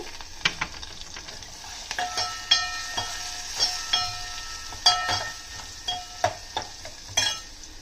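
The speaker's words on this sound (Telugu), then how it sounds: "ఇప్పుడు ఉల్లిపాయలు వేపుకుందాం" Onions fry in a pan after a tempering for lemon rasam, a soft continuous sizzle broken by repeated scraping strokes of a spoon stirring, close and alone.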